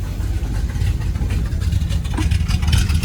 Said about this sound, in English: Turn the switch, turns ignition, fuel pump, all that stuff on. Starter button.